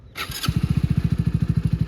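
A motorcycle engine starts up close by and settles into a fast, even putter of exhaust pulses.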